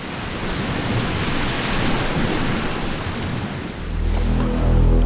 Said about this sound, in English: Every major decision I've made has been made with the sound of the waves crashing in my ears.